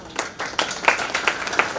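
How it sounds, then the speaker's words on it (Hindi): An audience claps at a university ceremony for an incubation centre agreement, a short burst of separate, fairly distinct claps with an uneven rhythm, moderately close. "तालियों की गड़गड़ाहट के साथ इस कार्यक्रम का हिस्सा लगातार बने रहिए"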